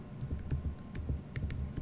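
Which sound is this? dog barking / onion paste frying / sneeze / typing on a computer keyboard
typing on a computer keyboard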